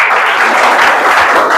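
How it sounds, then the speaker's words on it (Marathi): A crowd at a Kargil Vijay Diwas speech event bursting into loud, dense applause, sustained and close throughout. "टाळ्या वाजवा."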